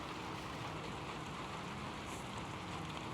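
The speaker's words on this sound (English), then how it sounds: "it's raining outside" Rain falls steadily in Skyrim, an even broadband hiss of downpour with no pauses, moderately loud and alone.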